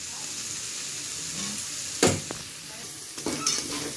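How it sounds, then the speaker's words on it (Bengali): Mashed turmeric-boiled potato and other filling ingredients stirred in a hot pan, a low continuous sizzle broken by a few sharp spoon scrapes near the end, close with no talk. "এবার এই সব জিনিসটা ভালো করে আগে মেশাবো। নেড়ে নেড়ে এগুলো মিশিয়ে নেব।"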